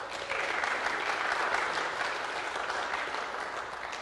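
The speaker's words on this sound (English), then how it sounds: "Can the church welcome Sherry with a hand clap of praise?" A church congregation claps to welcome the Rev. Sherry Cothran at an Easter service, producing a dense, steady wash of applause that holds for the full stretch with no pauses and no talk over it.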